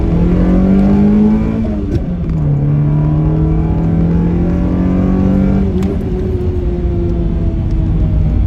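A 1990 Toyota Celica 4WS GT-R's engine runs steadily up close, with a loud continuous drone that shifts pitch slightly a few times as revs rise and fall, with no voices.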